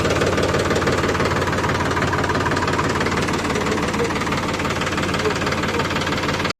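A John Deere tractor engine runs close by. It gives a loud, steady, rapid diesel chugging and knocking that never changes pace, then cuts off abruptly at the very end.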